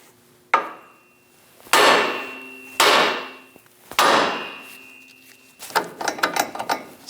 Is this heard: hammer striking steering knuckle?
yes